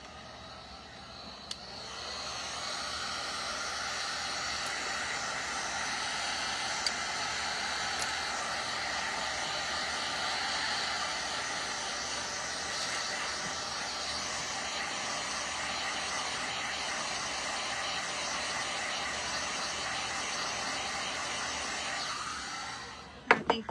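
A hair dryer blows steadily on a hand-painted snowman craft, a loud continuous whoosh that runs for over twenty seconds alone before cutting off near the end.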